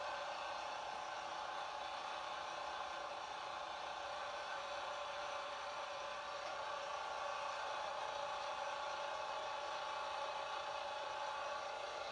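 A small two-horsepower Briggs & Stratton engine runs steadily throughout, a constant buzzing drone with no break in rhythm and no talk over it.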